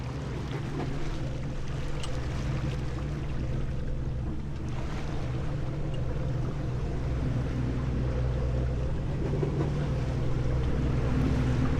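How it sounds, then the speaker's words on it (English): A sailboat moves slowly offshore overnight in a light breeze, with a steady low rumble of wind and water washing along the hull, continuous and moderately loud with no voices. "overnight the wind comes up a bit and we sail slowly"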